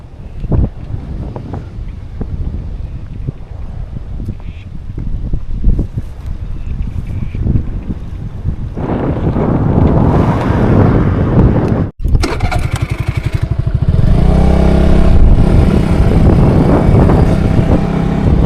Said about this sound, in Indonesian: Anginnya gede banget.